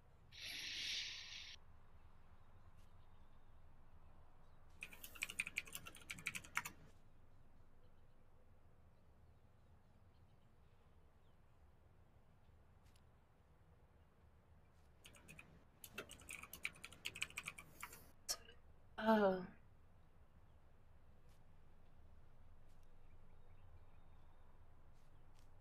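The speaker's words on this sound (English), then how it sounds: "the typing noises" Quiet computer-keyboard typing comes in two short bursts of rapid clicks separated by long near-silent stretches, with a brief squeaky sound near the end.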